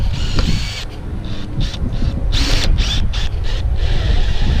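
Screws driven into a vented metal ridge cap on a roof, a close, loud whirring drill with short bursts and clicking pulses over steady background noise.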